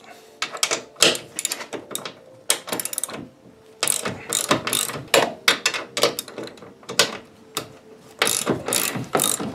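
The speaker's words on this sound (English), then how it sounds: "There are two nuts here, just going to undo these." A ratchet undoes two nuts on an Audi 2.7 bi-turbo steering column, giving loud, close bursts of rapid clicking with short pauses between the strokes.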